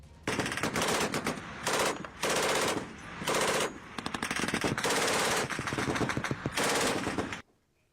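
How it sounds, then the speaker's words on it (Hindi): Taliban fighters in Kabul fire automatic guns in loud, rapid bursts, several long volleys of machine-gun fire separated by short pauses, with no voices. "काबुल में तालिबानी लड़ाकों ने जोश में फायरिंग भी की थी।"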